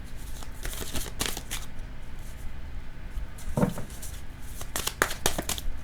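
Tarot cards are shuffled by hand in repeated quick riffling bursts, close and crisp, with brief pauses between the flurries and no voice.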